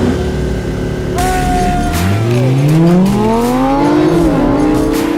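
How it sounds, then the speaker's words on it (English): Lamborghini launching in a drag race, engine roaring loud and close as it accelerates, pitch climbing through gear changes alongside a second car's engine. "I thought this Lamborghini was fast"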